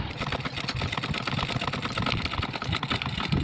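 Close, continuous whir of a sewing machine stitching a strip onto blouse fabric, its rapid needle beat steady and fairly loud throughout with no talk.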